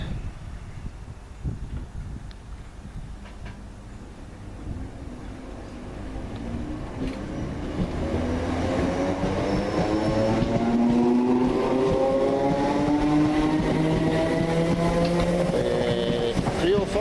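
Train 32317 pulls away from Newton station, a rising engine and wheel hum building from quiet to a steady, loud tonal drone with layered pitches as it accelerates, with faint talk at the start.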